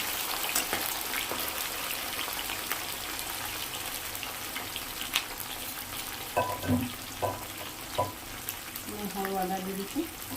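Panch phoron five-spice seeds frying in hot oil, a steady sizzling crackle with scattered pops and stirring scrapes, near and moderately quiet, with a voice speaking over it.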